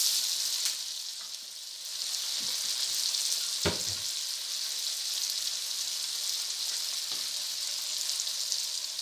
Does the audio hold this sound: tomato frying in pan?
yes